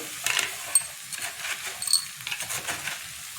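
A mixture of beetroot, grated coconut and jaggery is stirred in a pan, giving soft, irregular scraping and patting strokes. The sounds are faint and close, with no talking.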